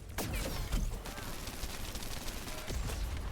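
Python gun fired at the Executioner's head in a shooter game, a few sharp shots early and again near the end over continuous loud combat noise and rumble.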